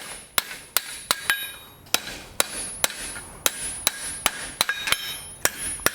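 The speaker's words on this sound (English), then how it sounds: "now I'm just using the hammer to shape a rough circular" A blacksmith's hammer strikes hot iron, shaping it into a rough circular disc with sharp, ringing blows at an uneven pace. About fifteen blows land, some in quick pairs, with quiet gaps between them.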